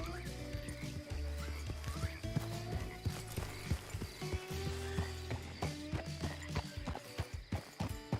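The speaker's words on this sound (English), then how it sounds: "This is a beautiful horse. The Turkoman." Turkoman horse hooves clip-clopping in a video game, a steady run of sharp near hoof strikes with an occasional whinny, over constant game music and ambience.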